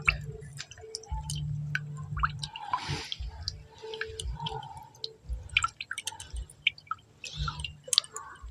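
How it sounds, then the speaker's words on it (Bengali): Water drips and trickles from a cloth twisted to strain chhena for rosogolla, with repeated squishing drips and wet squeezes close by in a quiet kitchen. "এবার এই কাপড়টা খেয়ে আস্তে আস্তে কিন্তু ভালো করে ঘুরিয়ে নিতে হবে তাহলে জলটা পুরোপুরি ঝরে যাবে"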